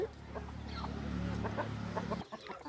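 A mother hen clucks low and continuously while sheltering her chicks beneath her wings, a close, murmuring run of soft calls that stops abruptly near the end.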